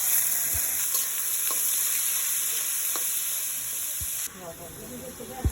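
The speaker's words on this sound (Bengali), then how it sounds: "পেঁয়াজ কুচি, রসুন কুচি, কাঁচামরিচ কুচি দিয়ে দিচ্ছি বিসমিল্লাহ। লাল হয়ে গেছে, ডালটি দিয়ে দিলাম" Lentils frying in hot oil with chopped onion, garlic and green chilli give a steady bright sizzle throughout, with a few soft stirring knocks and a sharp change in the hiss near the end as the pan is disturbed.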